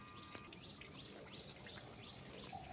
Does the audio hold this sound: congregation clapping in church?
no